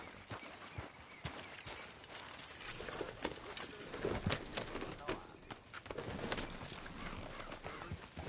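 Horse hooves clip-clopping in Red Dead Redemption 2, a soft, uneven patter of footfalls at a walking pace, faint and low under ambient game sound.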